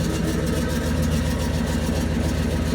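A 1970 Chevrolet Chevelle SS454 with new exhaust idles close by, a loud, steady low rumble with a fast even pulsing lope and no voices.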